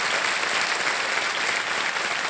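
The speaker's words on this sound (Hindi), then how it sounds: "तालियां बजती रहें इनके लिए" Studio audience on a TV quiz show (KBC Season 15) applauding a contestant, a dense, steady wash of many hands clapping close and loud throughout.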